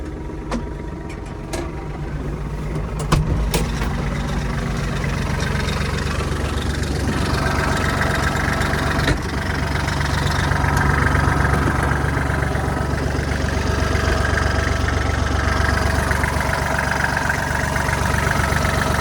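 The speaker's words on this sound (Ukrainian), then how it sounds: "давайте поглянемо на роботу його двигуна" A Kubota GL-261 mini tractor's diesel engine idles steadily for the whole stretch, a low, even chugging rumble with a slight knock, close by and with no talking.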